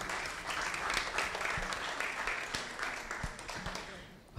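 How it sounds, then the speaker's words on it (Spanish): Audience applauding a librarian winner at a departmental short-story contest award ceremony, a steady round of clapping from a crowd at moderate distance, with a few sharper nearby claps standing out. "Un aplauso, por favor."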